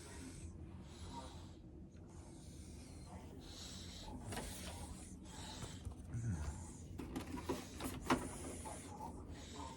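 Microline 184 printer running faintly in a room, with a rasping, shuffling mechanical texture and occasional louder clicks, under ongoing conversation.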